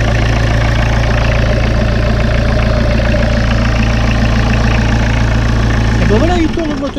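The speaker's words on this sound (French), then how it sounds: "il tourne le moteur, donc le changement de la pompe s'est bien passé" A diesel engine idles steadily with a loud, even low rumble after its Lucas injection pump was replaced, running continuously before cutting out near the end.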